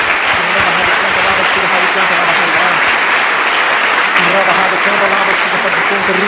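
A church congregation breaks into loud, sustained applause for Jesus, many hands clapping in a dense wash that fills the room, with voices and an underlying low hum beneath.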